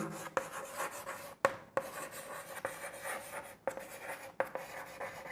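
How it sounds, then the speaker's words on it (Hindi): Pen or pencil writing on paper during a maths lesson on rationalising a denominator, close scratchy strokes broken by several sharp taps and pauses between words, with no one speaking. "तो यहां पे लिखेंगे"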